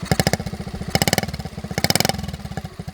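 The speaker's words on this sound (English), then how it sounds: "Listen to the exhaust note on this thing." A restored 1971 Honda Z50 Mini Trail minibike with a new tailpipe and original spark arrestor idles nearby with a rapid, loping putter. Its small single-cylinder engine puts out fast, even pulses that swell slightly in a few short bursts.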